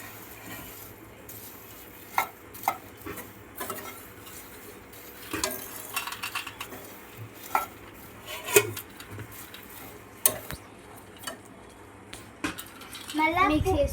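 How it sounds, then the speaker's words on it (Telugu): A spiced mixture with turmeric, peanuts and roasted gram is stirred in a cooking pan, giving scattered scrapes and clinks of the spoon against the metal beneath steady talking. "మళ్ళీ కొంచెం మిక్స్ చేయాలి."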